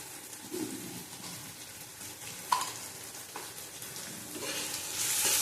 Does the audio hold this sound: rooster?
no